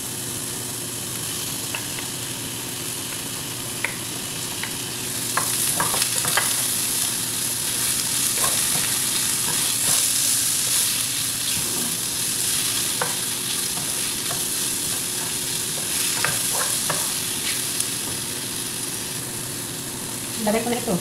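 Hotdogs frying in a pan with black pepper, a loud continuous sizzle with frequent scraping and clattering stirs that grow busier after the first few seconds; no talk over it.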